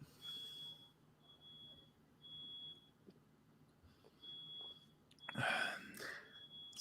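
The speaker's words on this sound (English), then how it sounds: "My smoke alarm's going off." A smoke alarm sounds repeated short high-pitched beeps at regular intervals, faint and distant in a room, ending with a sudden loud breathy noise up close.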